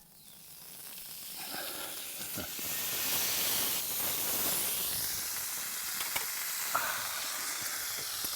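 Bacon and eggs sizzle and hiss in a pan over an open campfire at a solo outback campsite, a steady close sputtering crackle that swells midway with a few sharp pops.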